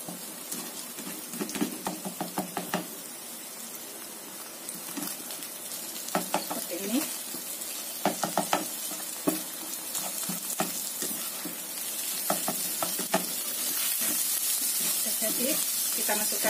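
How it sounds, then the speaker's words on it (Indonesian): Eggs scrambling in a hot frying pan while making fried kway teow, with steady sizzling and hissing broken by repeated scraping and stirring strokes of a utensil, close and moderately loud, with brief speech-like sounds in places. "Ini aku orak-arik."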